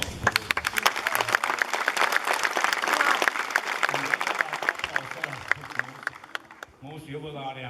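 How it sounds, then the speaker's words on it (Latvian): An audience claps after a concert with sharp, distinct hand claps rising into steady applause, then fading near the end as a voice begins speaking. "Ļoti skaisti bija. Aplausi."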